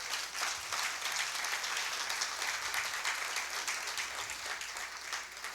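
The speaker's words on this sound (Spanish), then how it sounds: "Den un fuerte aplauso al Señor." Church congregation applauding, dense sustained clapping from many people filling the room at an even level throughout.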